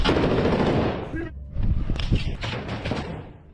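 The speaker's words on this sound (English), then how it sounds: "Two Russian soldiers are firing back in." Real combat gunfire as Ukrainian special forces assault a building and Russian soldiers fire back: loud, close bursts of automatic fire and sharp shots clatter in rapid clusters, then thin out into scattered cracks.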